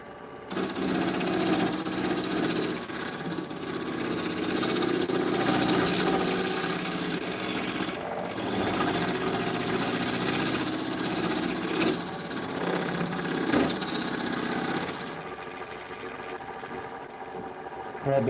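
A wood lathe spins a bowl while a bowl gouge cuts into it, a loud continuous whirring, scraping roar that runs steadily for most of the span before cutting off near the end.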